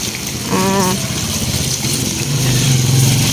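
A motorcycle engine in a provincial Philippine neighborhood gives a low, steady rumble that swells in the last second, after a brief tonal chirp near the start; faint voices sit in the background.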